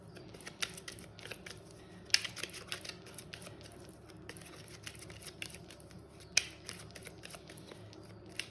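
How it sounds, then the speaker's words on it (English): A Chakra oracle card deck is shuffled by hand, giving faint, scattered soft clicks and papery rustles with a few sharper snaps against a quiet room background. "I'm going to shuffle now from the Chakra deck that I have"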